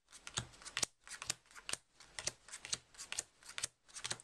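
A magician deals playing cards by hand into four packets, each card landing in a crisp, quick snap, several in rapid bursts, close and quiet, with no talking.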